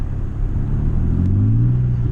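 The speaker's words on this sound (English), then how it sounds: "Let's see if we can fucking downshift her." A car engine on a trail rumbles close and loud, then its revs rise sharply in a short climbing whine as it downshifts, with no talking.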